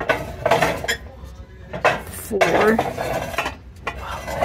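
Ceramic bean pot lifted and set down among thrift store dishes, with several clear clinks and knocks of heavy pottery close by against a busy shop background.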